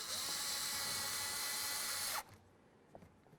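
A power drill screws in a Ford Ranger side mirror, a loud steady high-pitched whir for about two seconds that stops abruptly, followed by faint clicks and handling noises.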